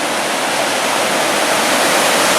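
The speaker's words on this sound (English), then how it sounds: "The amount of water coming over there is just fantastic." Rainbow Falls in Gorges State Park, heavy water pouring over smooth rocks, gives a loud, steady broadband roar that fills the whole stretch without a break, up close and with no voices.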